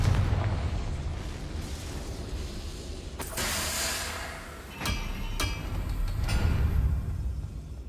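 Confringo blasting spells explode in Hogwarts Legacy: several sharp, loud bursts crack out at intervals over a continuous roaring, hissing rumble, each blast followed by a fiery spray of debris.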